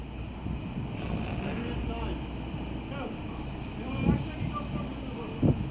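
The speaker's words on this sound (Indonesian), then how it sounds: "Ini mesinnya yang mesin kapalnya yang maju" A ship's engine running at sea during a loading dock operation: a steady low drone under wind buffeting, with a couple of brief knocks.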